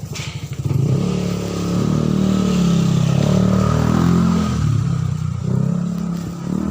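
A motorcycle engine rises to a close, rumbling roar as it passes during a typhoon blackout, holding loud for several seconds before easing off, with some clatter and wind noise around it.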